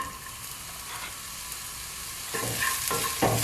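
Onion sizzles steadily in a hot pan for shakshuka, a dense, even frying hiss, with a utensil scraping and stirring through it near the end, close up and with no voices.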